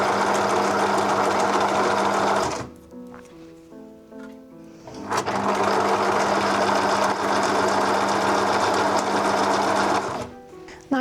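A sewing machine stitches fabric for homemade underwear, running loud and steady in two long bursts separated by a quieter pause with faint handling sounds, no voices heard.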